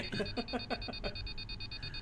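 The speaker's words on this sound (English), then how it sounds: "Your alarm blare is jutting you awake from your dream." An alarm clock in the video game Mech_Romancer beeps in a rapid, repeating electronic pulse, faint and steady across about two seconds, with no talk over it.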